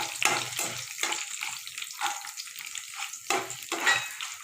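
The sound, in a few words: garlic and dried red chillies sautéing in a pan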